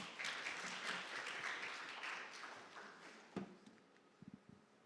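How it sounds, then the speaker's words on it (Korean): Audience applause welcoming a speaker at a data conference, a dense wash of many hands clapping that fades over several seconds and ends with a few scattered claps and light thumps. "여러분 큰 박수로 팀장님을 환영해 주시면 되겠습니다."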